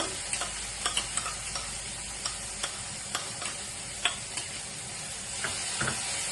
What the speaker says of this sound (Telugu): ఈ మూకుడు వేడికి వేగిపోతుందండి.